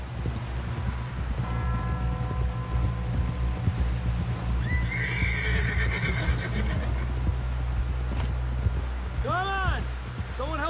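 Horse hooves clip-clop along and a horse whinnies repeatedly in Red Dead Redemption 2, layered over a steady game soundtrack with wind and ambient noise. Toward the end the neighing grows loud and close.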